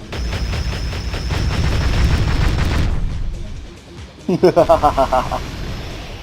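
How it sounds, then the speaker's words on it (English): Plasma Gatling secondary fire in the underwater game Aquanox: a loud, dense sustained burst of rapid shots for about three seconds, then a short volley of six distinct sharp pulses after a lull. "Plasma Gatling. And it also has a secondary fire."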